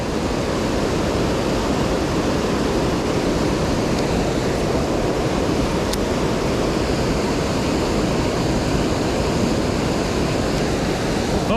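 Fast-flowing river current rushing steadily and loudly at a fishing spot, a dense, unbroken roar of water that stays constant throughout with no gaps.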